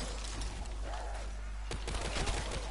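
STG assault rifle fire in the Black Ops 3 Zombies map Nacht Der Untoten, a dense rapid rattle of gunshots with a sharp burst near the end, loud and continuous.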